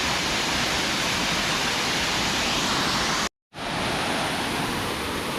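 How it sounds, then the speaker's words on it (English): A waterfall on a hike in Panama: a steady, loud, broadband rush of falling water that fills the scene, cut by one brief silent gap. "Another beautiful waterfall."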